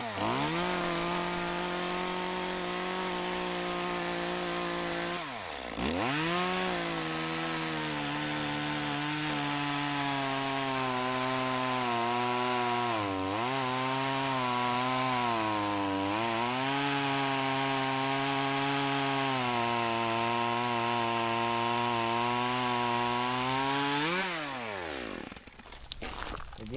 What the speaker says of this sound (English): that's a pretty good cut for a chainsaw